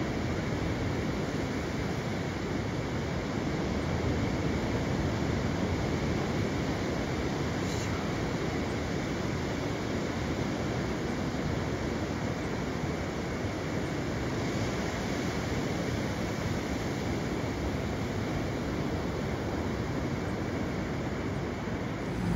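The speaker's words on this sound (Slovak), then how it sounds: "A už je prvá vlna." Ocean surf breaks and washes on a beach in a continuous, loud roar of water and wind, with no voices over it.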